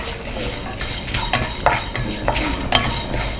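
Whole spices (cumin, coriander seed, curry leaves, garlic and dried chillies) are stir-roasted in a pan, giving a steady dry sizzle with repeated clinks and scrapes of a spoon against the metal, close and continuous.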